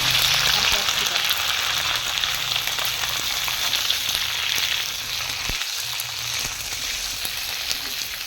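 Onions frying in hot oil in a home kitchen, a steady, close sizzle running throughout with a brief dip partway through.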